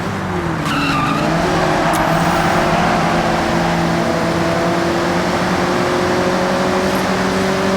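A car in the Forza Horizon 6 racing game, driving along a scenic coastline near Tokyo City docks, with loud sustained engine drone and long tire squeals as it slides through a corner, no voices.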